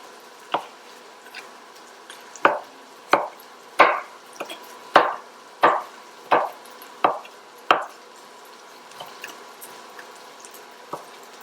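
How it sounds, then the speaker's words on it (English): A knife chops trimmed ham on a cutting board in about ten sharp, evenly spaced thuds, close and clear with no talk, then stops. "we're going to just give this a rough chop"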